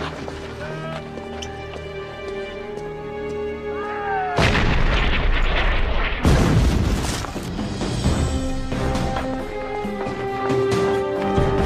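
Cannon artillery fire in a western film battle, with heavy booming blasts and dense rumbling bursts that build midway and continue over a music score, with sharp gunfire cracks and hoofbeats mixed in.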